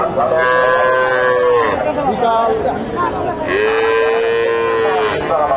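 Friesian and cross-bred bulls at the Bogura Dhap cattle market moo loudly and close by in two long calls, with crowd chatter and market hubbub throughout.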